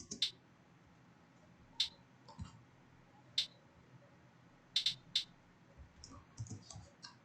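A lower, softer trap hi-hat from a drum kit taps sparsely in a background pattern, a handful of isolated ticks spread across several seconds, with soft low thumps between them.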